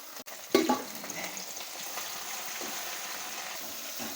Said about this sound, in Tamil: இலையை போட்டு வதக்க போகிறேன்